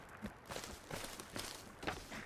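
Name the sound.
footsteps in the video game Sons of the Forest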